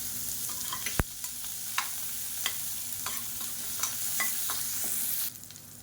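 Chopped onion fries in hot oil with cumin, dried chillies and curry leaves, hissing steadily while a spoon taps and scrapes the pan at intervals, with one sharp knock early on, and no one speaking.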